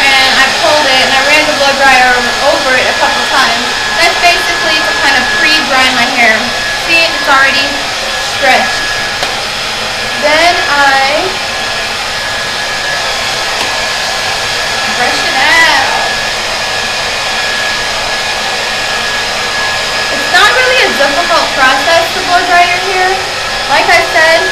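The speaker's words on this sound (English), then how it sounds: "I ran the blow dryer over it a couple times" A blow dryer runs steadily over natural hair, a loud, continuous airy whir that holds for the whole stretch with slight shifts as it moves, while a voice talks quietly underneath.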